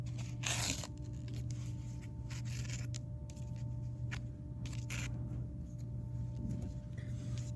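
Taped warp string is pulled and torn off a handwoven bag, giving faint, close tearing and rasping bursts with scratchy rubs between them over a quiet hum.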